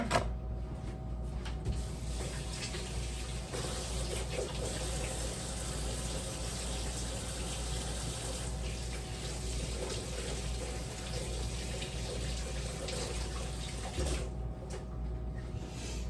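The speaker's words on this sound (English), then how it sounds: "now I'll be ready to rinse my hands" Running tap water pours steadily as hands are rinsed under it, a continuous even splashing hiss that holds through the whole stretch with little change.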